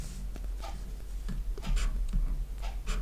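Pen or chalk scratching out a math solution in short strokes with brief pauses, near and fairly quiet, with no talk over it.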